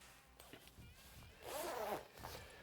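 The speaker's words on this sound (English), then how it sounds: "All right, Daniel, zip it back up." A zipper on a Klim Dakar off-road motorcycle jacket is pulled up in a quick rasping run, close and quiet, with brief handling rustles around it.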